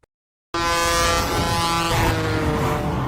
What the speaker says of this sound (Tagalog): Naabutan naman ni Jiyon ang sasakyan ni Ara pero muntik na itong mabangga sa kasalubong na truck